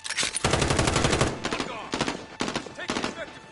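Automatic gunfire in the video game Call of Duty Modern Warfare, sharp rattling bursts of rapid shots separated by short pauses, several bursts in a row at close range.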